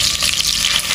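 Shrimp frying in a pan, a steady dense sizzle with no break across the whole second, close and fairly loud with no voices.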